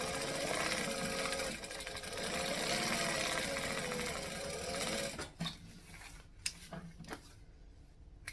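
A sewing machine stitches a seam with a half-inch seam allowance, whirring steadily for about five seconds before stopping. Scattered handling clicks and rustles follow.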